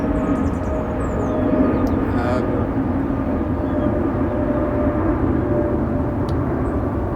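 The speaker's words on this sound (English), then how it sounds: "there's a plane going over my head right now" Airplane passing overhead at a fishery, a broad, steady roar holding at an even level throughout with no speech.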